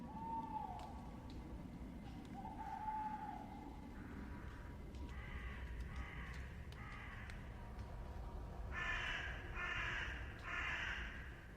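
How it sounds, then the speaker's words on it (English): Crows caw repeatedly in clusters of harsh calls, some nearer and louder, over a low background rumble. "The crows shattered the silence"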